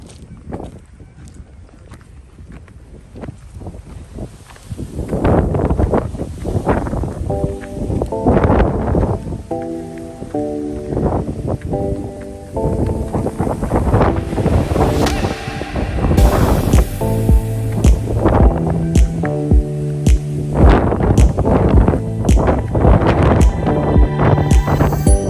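Strong gusts batter the microphone on a hilltop at Sunset Beach, Saint Martin, loud and roaring in repeated blasts that build in intensity, with rustling in between.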